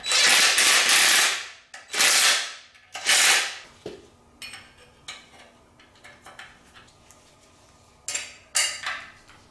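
Metal parts clank and rattle as an oil filter bracket is fitted to a 1951 MG TD engine during reassembly. Loud, close bursts of scraping metal come first, then lighter intermittent clicks and taps.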